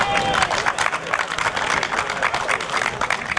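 Crowd applause and cheering at the podium ceremony of the Turckheim-Trois Epis hill climb 2022, honoring the N2 class winner; dense, steady clapping fills the whole stretch, close and loud.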